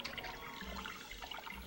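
Flowing water in the Nintendo 64 game Shadowgate 64: Trials of the Four Towers, a steady loud rushing wash that fills the whole stretch without pause.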